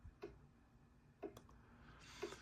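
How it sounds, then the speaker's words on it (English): A Klydoclock digital clock plays a grandfather-clock-style tick, three evenly spaced, soft clicks about a second apart over a faint steady background hum, with no voices. "So just like a grandfather clock, you can hear it ticking."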